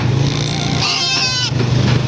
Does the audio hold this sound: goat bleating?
yes